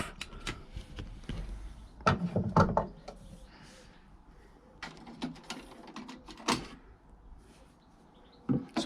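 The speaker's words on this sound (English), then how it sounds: "There is some screws there which I will now remove." Screws being removed from a fluorescent light fitting, with scattered metallic clicks, scrapes and knocks from a screwdriver at close range, irregular and moderately loud over a low background.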